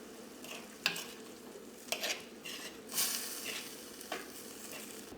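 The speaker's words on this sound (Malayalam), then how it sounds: "ഇപ്പോൾ കറി നന്നായിട്ട് തിളച്ചിട്ടുണ്ട് ഇതൊന്ന് ഇളക്കിയിട്ട് കൊടുക്കുക" A pot of boiling prawn curry being stirred, with several sharp clinks of a spoon against the pot rising over a steady bubbling sizzle, close by and without voices.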